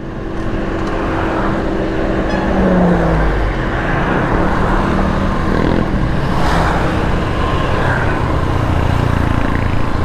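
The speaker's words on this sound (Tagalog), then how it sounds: "Dahil sasakyan dito. Ang bibilis pa." Fast cars pass on a road, one loud steady roar of traffic and engine noise close by, with no talk over it.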